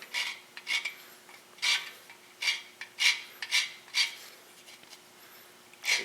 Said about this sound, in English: you take like just a regular bastard file, and you hit that edge